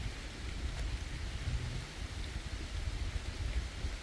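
Rain falls steadily on a roadside where wild mushrooms are being gathered, an unbroken broadband patter at even loudness with no voices.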